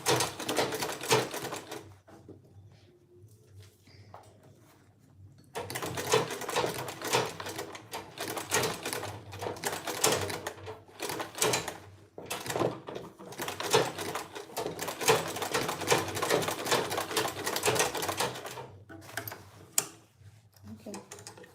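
A sewing machine back-stitching a bag runs in rapid clattering bursts with short stops between runs, close and moderately loud, with a person talking at times.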